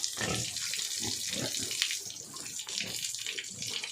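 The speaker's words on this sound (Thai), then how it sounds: "ก็ได้เวลาอาบน้ำให้น้องหมูนะคะ" Water gushes steadily from a tap or hose while a pig is bathed, a continuous close splashing flow with uneven bursts and no talk over it.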